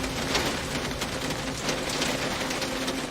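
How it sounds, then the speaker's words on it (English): Steady heavy rain pours down in a city street scene from the 1995 film Se7en, a dense, even hiss with no break over its short span. "It is always raining here, it seems like."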